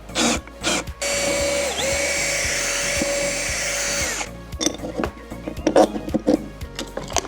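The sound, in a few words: power drill running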